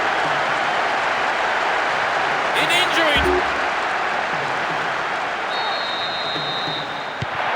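A steady, broad roar from a stadium crowd cheering after a goal in the football video game PES 6, continuous and fairly loud, with a commentator's voice briefly heard over it.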